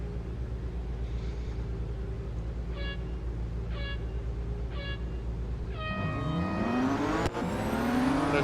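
A BMW M4 GT4 race car in Real Racing 3, its engine droning steadily beneath a few short tonal chirps, then revving up in a rising, louder sweep near the end, with no voices.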